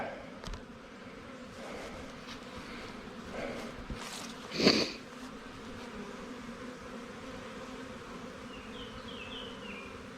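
Honey bees swarming into a hive fill the air with a continuous, close buzzing hum, punctuated midway by a brief louder rustle or knock.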